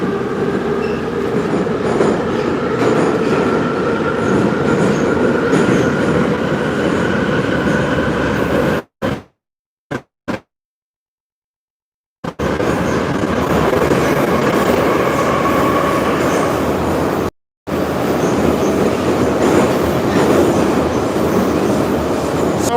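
A St Petersburg Metro Red Line subway train runs underground with a loud, steady rumble and hum, broken by a few brief dropouts near the middle and one later before the roar resumes.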